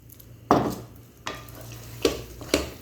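Bread halwa being stirred in a pan with almonds and walnuts, giving four distinct scraping, clattering strokes of a spoon against the pan, spaced about a second apart over a soft background hum, no talking.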